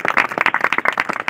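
A church congregation claps along in a steady, fast rhythm during a Telugu gospel sermon, the bright hand-claps close and continuous with no talking over them.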